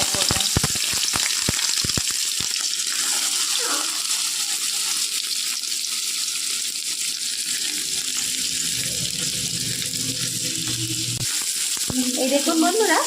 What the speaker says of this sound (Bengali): মামনি ওই মাছ ভেজে নেওয়া তেলের মধ্যেই এবার দিয়ে দিচ্ছে কিছুটা কালো জিরে ফোড়ন, আর দিয়ে দিচ্ছে গ্রেট করে রাখা আদা আর চেরা পেঁয়াজটা